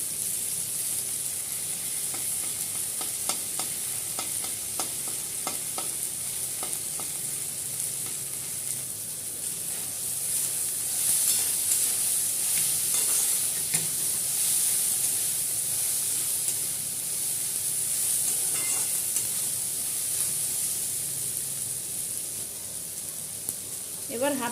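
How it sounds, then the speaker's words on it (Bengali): Vegetables with chopped ginger fry in a pan for an egg drop soup noodle dish, giving a continuous bright sizzle and hiss that runs steadily throughout. Occasional scrapes come from stirring, and a voice talks now and then. "সবজিগুলিকে আমি হালকা করে ভেজে নেব।"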